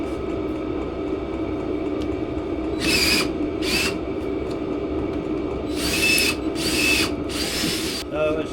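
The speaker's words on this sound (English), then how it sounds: "Clutch is going on the drill" A cordless drill with a worn, slipping clutch ratchets in several short bursts of rapid clicking against a steady motor hum, close and fairly loud, during work on a shelf-mounted model railway.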